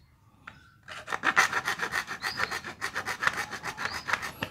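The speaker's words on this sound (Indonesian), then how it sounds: "Kita dapat memasukkan gergajinya supaya bisa memotong dan rajin hasilnya seperti ini." Hand saw blade rasping back and forth through a hydram pump valve body, a steady run of close, even strokes with a brief knock before the sawing begins.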